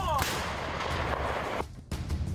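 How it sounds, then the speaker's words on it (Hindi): M777 howitzer artillery firing on a Ukrainian front line in the Donbas, heard as one loud, broadband booming blast that sustains and rolls for over a second, then cuts off and is followed by another burst of sharp noise. "बाइडेन की तोप यूक्रेन पहुंचने वाली है और अब तोप का असर देखिए।"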